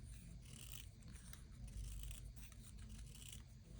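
Scissors trim around a small piece of paper for a whimsical winter doll collage, a soft, close, continuous snipping and rustle with no voices.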